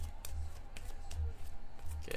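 Trading cards are shuffled by hand in quick riffling bursts, several soft repeated flicks close by with faint talk underneath.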